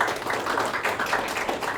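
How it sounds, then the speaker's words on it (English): An audience at a talk on global citizenship breaks into dense, steady applause, a close wash of many hands clapping at once with no break. "A mid-sentence applause."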